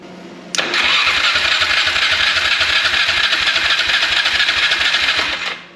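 A 2003 Polaris Sportsman ATV engine cranks briefly on the key and catches, then settles into a steady, loud, slightly rattling idle that runs for several seconds before cutting off.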